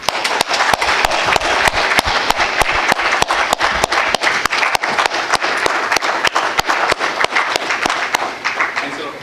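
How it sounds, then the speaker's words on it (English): At a library marketing talk, an indoor audience applauds loudly as a speaker receives a memento, with rapid close claps forming a steady wash that tapers off toward the end. "Can we have a round of applause, please?"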